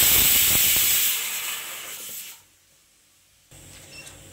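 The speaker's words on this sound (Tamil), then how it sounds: "2 விசில் வந்துருச்சு" A pressure cooker full of ven pongal lets out a loud steam whistle and hiss that tapers off and cuts out, leaving a quiet kitchen background.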